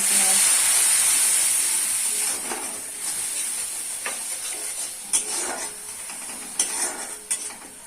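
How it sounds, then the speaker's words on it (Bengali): Spice masala with chili powder, cumin powder and salt fries in a pan for pabda fish curry, a loud steady sizzle broken by scraping stirring strokes that grow more frequent later. "মশলাটা ভালো করে রান্না করে নিতে হবে"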